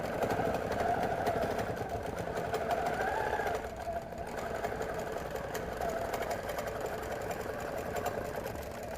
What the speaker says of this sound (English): I'm going to be kind of stitching in the ditch here along the edge